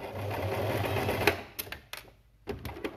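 A sewing machine stitches a fabric face mask, its motor whirring steadily and close for about a second and a half before stopping, followed by a few quiet clicks and handling knocks.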